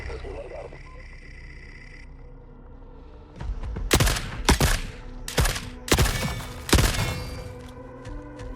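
Machine gun fire in a video game rips out in several loud, close bursts in the second half after a quieter opening, with brief pauses between the volleys.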